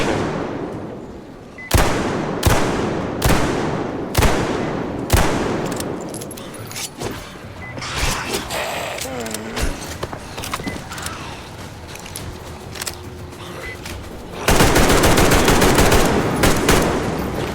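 An automatic weapon fires in the video game Metro Exodus: a run of sharp, evenly spaced shots rings out up front, followed by clanking mechanical and creaking game sounds and a loud closing burst of noise.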